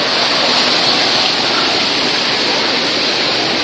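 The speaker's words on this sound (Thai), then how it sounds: "ก็จะเป็นบรรยากาศ ด้านนี้ด้านน้ำตก" Rushing water of a nine-tier waterfall heard from a bridge, a loud, constant broadband roar without breaks or talking.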